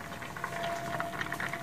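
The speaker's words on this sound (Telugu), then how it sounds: "ఆలు ఆల్మోస్ట్ అలా ఉడికిపోయింది." Potatoes boil in a pot of water on a stove, a steady close bubbling and gurgling with soft popping bursts running through the whole short stretch, no voices.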